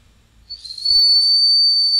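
A whistling noodle, a Pfeifnudel pastry, is blown into, producing a loud, steady high-pitched whistle that starts after a half-second of breathy rustle and holds clearly to the end, with no talk over it.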